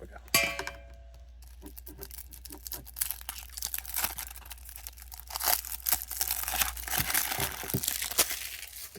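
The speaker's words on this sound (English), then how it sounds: "We'll open this secondary pack up." A Magic the Gathering card pack wrapper crinkles and tears up close in uneven bursts of crackling plastic, with a faint clink near the start.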